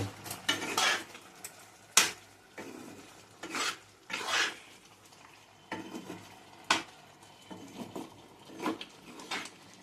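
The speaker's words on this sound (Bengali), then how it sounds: "এবারে এটাকে আমি ভালো করে নাড়িয়ে নেব।" A spoon scrapes and clanks against a pot while a spiced jaggery mixture is stirred, making irregular bursts of metallic scraping with a soft sizzle underneath, close but fairly quiet.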